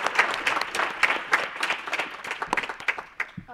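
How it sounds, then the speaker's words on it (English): Audience applause fills a campus lecture hall at the close of a panel on academic freedom, a dense, steady wash of many hands clapping that stays loud throughout. "I think they deserve a round of applause for"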